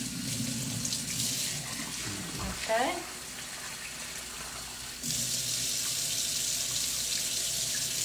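Cold tap water runs steadily into a sink while rice is rinsed, a continuous close gush with brief sloshing and a short spoken word partway through.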